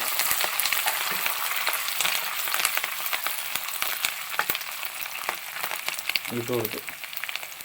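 Curry leaves sizzle in hot oil in a pan for Kottayam-style fish head curry with kudampuli, a steady loud frying hiss with scattered crackles and a short voice near the end.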